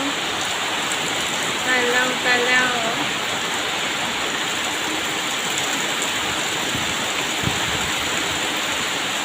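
A heavy downpour keeps up a loud, steady roar of rain throughout, while a voice speaks briefly near the start.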